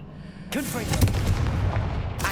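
A Confringo fire spell blast in Hogwarts Legacy on PS5 booms out in a sudden loud burst, followed by a sustained crackling, rumbling tail with a second impact near the end, with no talk over it.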